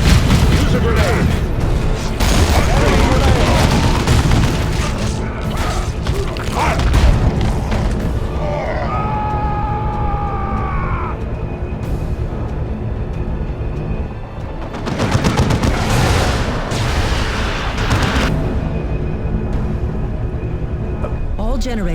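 Battle sounds in Warhammer 40,000: Dawn of War II, with heavy booming grenade blasts and bursts of gunfire that are loud and chaotic, punctuated by repeated impacts and mixed with voices and game audio.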